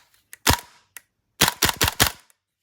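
A Krytac Kriss Vector gas blowback airsoft rifle fires one sharp close crack, then a second, then a quick string of four snappy shots, each with a mechanical clack of the cycling bolt.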